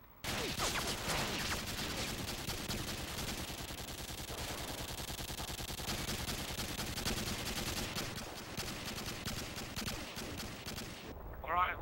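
Video game gunfire from Modern Warfare 2 during an ambush near Humvees rattles as continuous dense bursts of automatic fire, loud and sustained throughout, with shouting voices mixed in.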